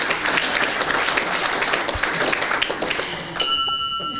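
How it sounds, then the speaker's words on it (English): Applause from an audience at a Kiwanis alderman candidate forum fills a room as a dense, steady clatter of clapping that runs throughout, with a brief tonal sound near the end. "Could you join me in applause for the good work that John did for us?"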